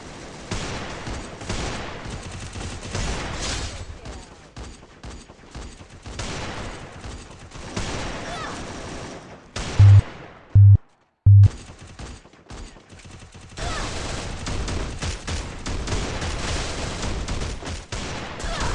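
Rapid gunfire bursts from a shooting video game, including sniper shots, rattle almost continuously with dense crackling volleys, broken by a brief gap with a few sharp low thumps, then resume at the same loud, steady pace.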